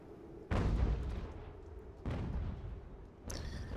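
Cannon fire in the Ultimate General: American Revolution battle game: two heavy booms in quick succession, each with a rumbling tail, followed by a sharper crack near the end.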